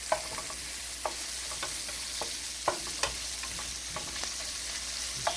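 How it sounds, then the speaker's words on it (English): Chopped garlic, onions and bratwurst fry together in a pan with a constant hissing sizzle and occasional light clicks and scrapes from stirring, no voices. "we have right now chopped garlic and onions in the pan, and our brats are looking good."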